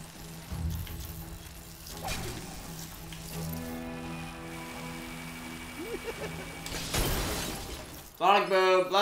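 Glass shattering in the Lego DC Super-Villains video game, with a sharp burst of breaking near the end over a sustained game music bed and other effects.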